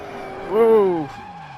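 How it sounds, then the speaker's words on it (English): Race car engine in the Automobilista sim racing game lapping the Spa circuit, a steady mid-pitched drone that swells into a louder rising whine for about half a second before easing back, with tire noise underneath. "Really do feel like I'm just coaxing this car around the track now."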